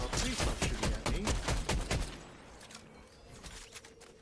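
Rapid bursts of gunfire from a video game rattle loudly for about two seconds, shots aimed at the player, then drop away to quieter scattered noise and faint movement.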